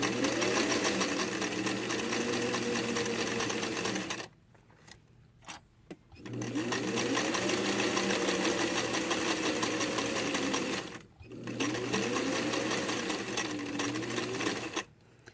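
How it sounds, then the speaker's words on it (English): A sewing machine runs a dart along a line in fabric, its steady motor hum in three long runs broken by pauses with light clicks of handling, close and clear. "turn it so I can continue sewing the dart"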